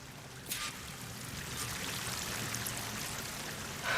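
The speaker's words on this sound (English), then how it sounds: "That waterfall must be coming from somewhere." Waterfall in Horizon Forbidden West, a steady broadband rush of falling water at low to moderate level that runs unbroken through the whole span, with a faint splash near the start.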